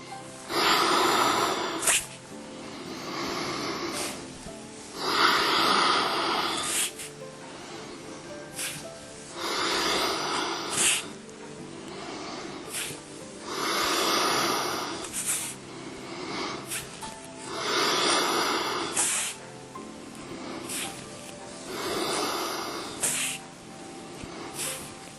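Slow, deep breaths drawn in and pushed out during a very gentle yoga session for joint care. The airy inhales and exhales come close to the mic in a steady rhythm, several seconds apart, with no talk.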